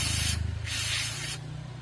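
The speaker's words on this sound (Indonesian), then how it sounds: "bersihkan dengan carbo cleaner. Jadi untuk karat-karatnya, untuk debunya, kotorannya bisa meletek semua di sini. Kita semprot" Carburetor cleaner is sprayed onto a motorcycle brake caliper on a Yamaha XMAX scooter, two close hissing bursts from the aerosol can over a low steady hum, with no talking.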